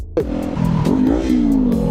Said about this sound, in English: Someone's exhaust is so loud